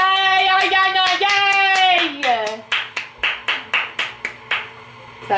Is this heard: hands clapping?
yes